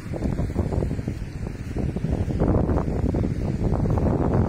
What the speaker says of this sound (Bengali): সমুদ্রের পাড়ে কিন্তু গরম বাতাস